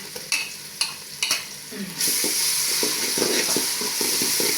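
A few metallic stirring scrapes in a pan, then a loud steady sizzle of onions frying with tomato and ginger-garlic paste, close up, with spoon scrapes continuing under it.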